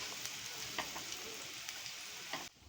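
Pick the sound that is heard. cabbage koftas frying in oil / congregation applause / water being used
cabbage koftas frying in oil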